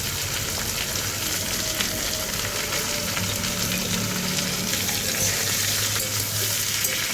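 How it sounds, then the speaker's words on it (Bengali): Vegetables and a few nuts fry in hot oil in a home kitchen pan, making a steady, close sizzle with a bubbling crackle that carries evenly for several seconds with no talking. "সব সবজিগুলো তেলের উপরে ভালো করে ভেজে নিয়ে একটু নুন হলুদ দেবো।"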